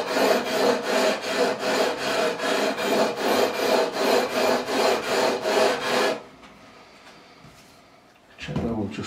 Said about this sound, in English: Letting the sanding beam or the leveling beam do the work.